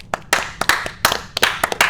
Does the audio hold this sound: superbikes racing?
no